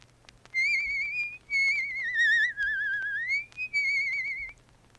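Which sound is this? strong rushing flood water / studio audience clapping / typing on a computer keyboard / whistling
whistling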